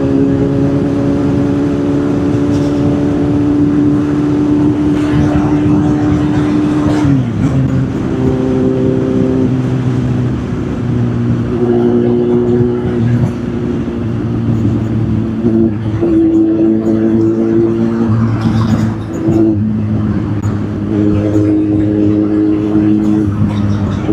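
A car engine passes on a road, a steady mid-pitched drone with a pitch drop around the seventh second as it goes by, followed by continuing engine hum and shifting tones, loud and close throughout.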